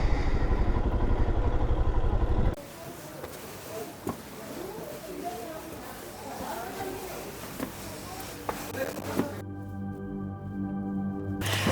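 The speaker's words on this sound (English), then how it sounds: "Look at the amount of vehicles here guys." Busy Himalayan mountain-road traffic in Leh, with motorcycles and other vehicles droning and clattering past at moderate distance, a louder close engine at the start and occasional knocks, while people talk.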